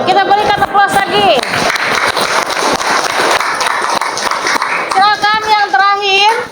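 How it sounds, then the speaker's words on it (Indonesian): Classroom applause for a presenting group of students, a steady burst of clapping with voices speaking over it at the start and end. "Kita berikan aplaus lagi"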